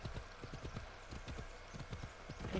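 Horse hooves clip-clop in Assassin's Creed Odyssey, a quick, even trotting rhythm of close, distinct hoof strikes continuing without pause over a soft ambient bed.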